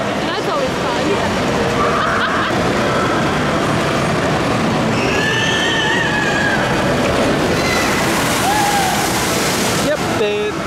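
At a Nickelodeon Universe log flume ride, a loud rushing wash of water surges continuously, with crowd babble and scattered distant voices mixed in.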